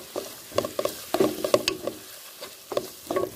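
A spoon scrapes and stirs chicken masala with garam masala and pepper in a hot pan, soft sizzling under irregular clinks and scrapes, close and alone.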